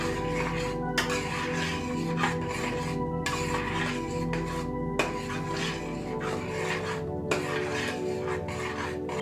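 A spoon stirs Hyderabadi mutton marag thickened with cashew-almond paste and fresh cream in a pot over a low-to-medium flame. Repeated close scraping and rubbing strokes come every second or two, with steady background music underneath.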